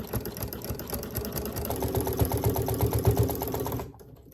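A sewing machine with a walking foot runs a long continuous seam through foam dish drying mats, a fast steady mechanical chatter close by that stops abruptly near the end.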